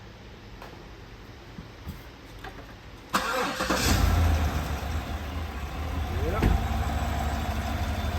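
A Cadillac Escalade V8, just repaired after a lifter fix, cranks and fires up, then settles into a steady, fairly loud idle, with a brief spoken word just before the start.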